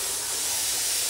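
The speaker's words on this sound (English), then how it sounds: "Finally the spray comes up." A spray bottle gives one steady, close hiss of mist while a chair is being upcycled and cleaned, lasting about a second with nothing else heard.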